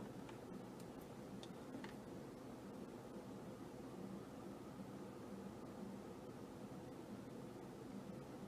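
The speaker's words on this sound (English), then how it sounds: "That is the sound of my indicator because we are about to make a turn" Car turn indicator ticking steadily inside a moving car about to turn, faint clicks over a constant road and cabin rumble.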